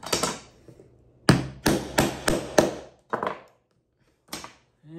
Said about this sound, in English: Punch it right through it.